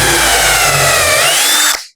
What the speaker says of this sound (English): I'm going to drill the hole there.